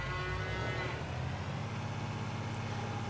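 Cattle low in Farming Simulator 22 at a feeding trough, a steady bovine moo blended into a continuous hum of game ambience and machinery, fairly loud with no talk over it.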